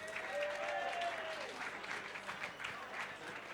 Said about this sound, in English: Big round of applause. Come on, it's the last award.